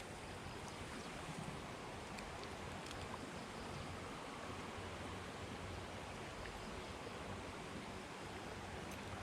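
Steady rushing water flows continuously throughout, a broad even wash like a stream or small runoff, fairly constant with no clear talk.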